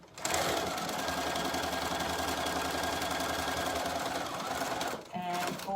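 A sewing machine runs steadily while back-stitching a neckband seam, a continuous loud mechanical whir that breaks briefly near the end before resuming.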